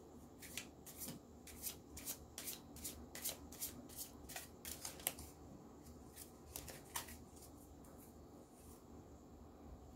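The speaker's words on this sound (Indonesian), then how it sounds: "saya ambil 3 kartu oracle sebagai tema" Oracle cards shuffled by hand during an Indonesian tarot-style reading, a quick run of crisp riffling bursts repeating steadily, close and fairly quiet, with no talk.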